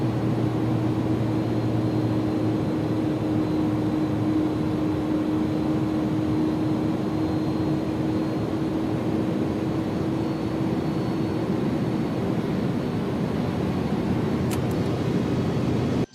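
Constant engine drone of a simulated Airbus A300 in the X-Plane 11 flight simulator, a low, even hum and hiss that holds steady throughout with no voices.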